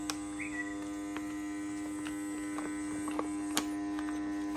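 A Foodsaver vacuum sealer runs with a steady, faint electric hum and drone, broken by a few soft clicks and ticks.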